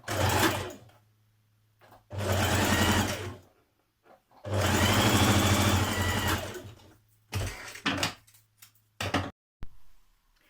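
A sewing machine stitches a seam in several bursts of rapid, whirring needle action separated by short pauses, close and clear with no talking.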